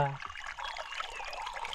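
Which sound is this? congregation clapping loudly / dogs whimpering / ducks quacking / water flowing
water flowing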